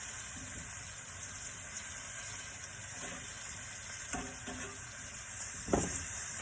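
Garlic shrimp and scallops, the shrimp coated in cornstarch, sear in hot oil with a steady close sizzle, broken by a few soft scrapes and stirs as pieces are moved and flipped.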